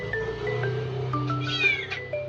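A cat gives a string of short meows followed by a longer rising caterwaul, close and clear, with a steady low hum underneath and no talking.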